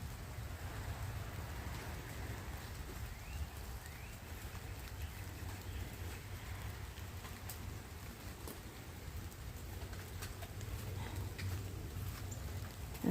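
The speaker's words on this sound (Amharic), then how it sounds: "ዝናብ እየዘነበ ነው።" Rain falling over a home garden bed where lettuce is growing, a steady soft patter of drops on surfaces with occasional closer taps and a low rumbling undertone, continuous throughout.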